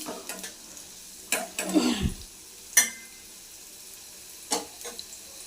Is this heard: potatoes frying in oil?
yes